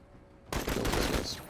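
Heavy video game gunfire bursts in abruptly after a quiet moment, a loud, dense rattle of rapid shots that keeps going with no talk over it.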